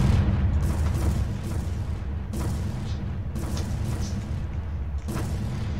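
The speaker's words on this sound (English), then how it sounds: "you basically like click on one of these things and you have a meteor, and that I guess destroys the object" Rumbling booms roll in a Roblox Meteor Simulator game as a meteor smashes an object, a steady loud low roar with repeated softer bursts layered on top throughout.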